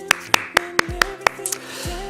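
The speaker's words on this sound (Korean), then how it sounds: "바로 박수!" Six crisp, evenly spaced hand claps ring out close and clear over a soft musical backdrop, then fade into light tones during a celebratory graduation send-off.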